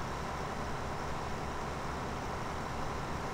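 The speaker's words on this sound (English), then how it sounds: "Whoa, the noise from the traffic outside," Steady roadway traffic from outside, a continuous broadband roar of passing cars and heavier vehicles, moderately loud and unbroken with no talk.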